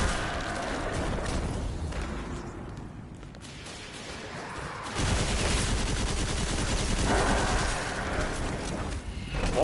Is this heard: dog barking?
no